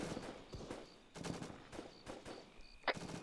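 Gunfire in a military video game, a few quick faint bursts of rapid shots with a sharper single crack near the end, heard at low level.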